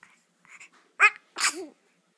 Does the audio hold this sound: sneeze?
yes